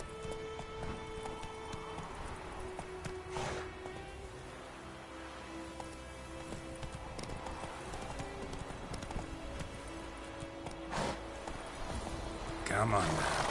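Roach the horse trotting in the video game The Witcher 3, with steady clip-clop hoofbeats on ground over several seconds, faint and continuous, and a brief rustle near the end.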